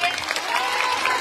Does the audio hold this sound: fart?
no